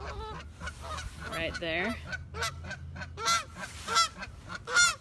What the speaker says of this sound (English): Oh, looks like I got too close to a nest. Let's leave these geese alone.